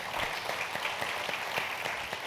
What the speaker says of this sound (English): A round of applause, Tim Brown.